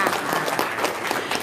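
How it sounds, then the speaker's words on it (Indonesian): A short burst of applause from a small group follows a talk about RDAY business knowledge, steady clapping that carries on alone for just over a second. "Tepuk tangan dong"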